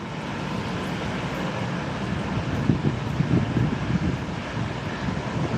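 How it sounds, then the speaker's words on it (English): Boeing 737-800 jet taxiing at Gran Canaria Airport, heard as a steady broad engine rumble and whine from some distance, with wind buffeting the microphone throughout and no speech. "Got a 2E737-800 just taxiing out now as well."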